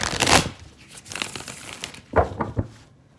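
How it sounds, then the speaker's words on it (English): Stiff tarot cards rustle and crinkle in uneven bursts as a thick deck is shuffled up close. "a kind of a thicker deck, so it's always a little bit hard to shuffle."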